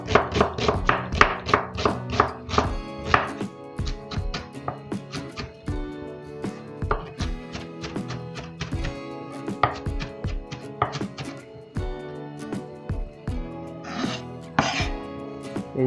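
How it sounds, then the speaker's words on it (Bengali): Onion chopped with a knife on a board while making pakoras, a quick run of sharp, close taps that starts dense and then continues at a steadier, looser pace. "পেঁয়াজটা অর্ধেক চপ করবো।"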